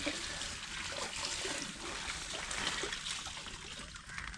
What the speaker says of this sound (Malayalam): അതിനുവേണ്ടി നമ്മളിതാ ജസ്റ്റ് വെള്ളം ഫോഴ്സിൽ വീഴ്ത്തുക.